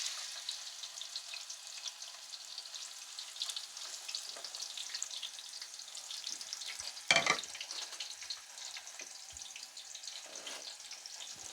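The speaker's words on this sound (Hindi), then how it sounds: "इसी घी में हमने अपने जो स्लाइस किया हुआ प्याज ऐड करके इसको पकाएंगे" Sliced onions fry gently in ghee for a roasted chicken Kabuli pulao, a soft, even hiss held at low volume throughout, with one brief, sharper burst of sizzle midway.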